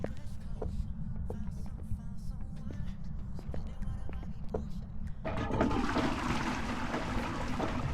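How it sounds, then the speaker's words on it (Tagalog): Water from a faucet, faint hiss under a low background hum at first, then the flow turns loud and broad midway and keeps running steadily to the end. "Ah, gripo lang pala yun."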